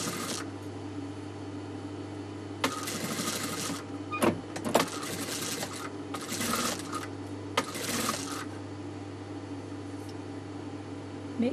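A sewing machine stitching along the existing seam of neckline piping on the wrong side of the fabric, in several short whirring bursts over a constant motor hum, close, with no talk.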